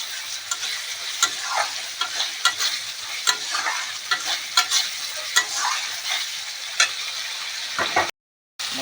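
Garlic stir-fried in a spice paste with turmeric and salt for a Bengali-style chicken curry, giving a steady close sizzle with repeated spatula scrapes and ticks against the pan and a brief dropout near the end.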